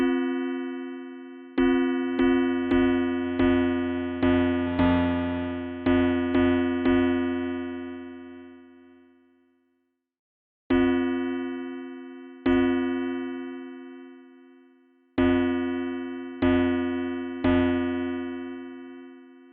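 A synthesized Javanese gong built with FM synthesis in Phase Plant rings out in repeated metallic strikes, a quick run of about ten hits followed by a pause and four more, each with a bright shimmering decay, with no talking.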